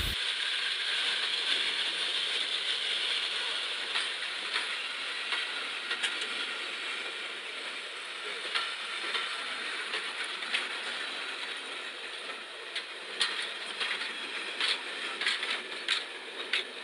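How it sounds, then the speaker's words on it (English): A passing train rolls by close up, wheels clattering and clicking rhythmically over the rails against a steady mechanical rumble. "Trains are very cool when they pass right in front of your eyes."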